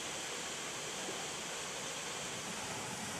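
Water pours steadily at Khlong Nonsi waterfall in Trat province, a constant, dense broadband rush that holds unchanged throughout with no voices over it.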